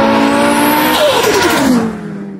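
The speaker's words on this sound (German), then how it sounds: "So, 5 Zylinder V5 im B2." An Audi B2 Sport Quattro fitted with a five-cylinder 20-valve V5 engine roars loudly, its pitch sliding downward as it runs, then eases off near the end.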